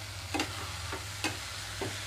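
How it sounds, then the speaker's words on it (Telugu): Finely chopped fenugreek leaves frying in melted butter over a medium flame for restaurant-style lasooni methi, a soft steady sizzle broken by three or four light spatula taps against the pan. "ఈ ఆకు అంతా కూడా ఇందులో వేసి వేయించుకుంటున్నాను"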